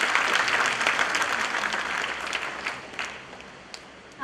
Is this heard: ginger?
no